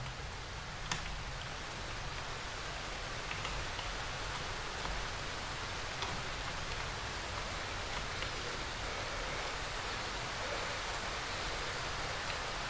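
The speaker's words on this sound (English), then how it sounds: "And it's raining." Steady rain falls throughout a dark forest in the survival horror game Darkwood, a constant even hiss with faint scattered drop ticks and no voices.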